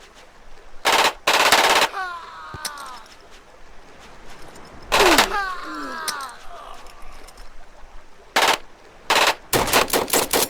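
Rapid automatic gunfire bursts in the video game Black Bag, loud and close, with pauses between volleys and groaning, pained character voices in the gaps.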